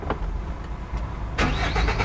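A new GAZelle NN light commercial van starting up: low engine rumble, then a sudden louder burst of cranking and catching at about 1.4 seconds, settling into an even running engine close by.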